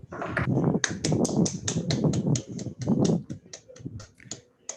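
A small group claps for a doctor at an International Diabetes Day event, sharp individual claps landing irregularly over low murmuring, then thinning to a few sparse claps near the end.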